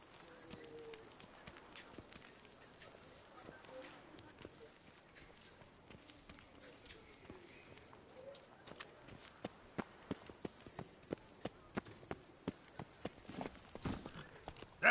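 Roach, Geralt's horse in The Witcher 3, clops along in a quiet, faint stretch that turns into sharper, evenly spaced hoof strikes near the end, with a voice talking over parts of it.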